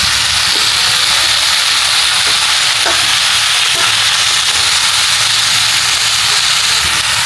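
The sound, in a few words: vegetables with broccoli and carrots stir-frying in a pan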